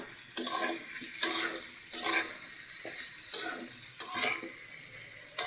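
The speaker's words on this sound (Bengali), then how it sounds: "তো এখন অল্প টাইম কষাবো।" Stir-frying in a pan on a home stove: a soft, close sizzle with a spatula scraping through the food in regular strokes roughly every second, each stroke briefly brightening the hiss.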